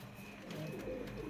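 Caged pigeons of a running JNS pair coo softly amid background murmur, a low continuous burbling that swells slightly in the second half, close but fairly faint.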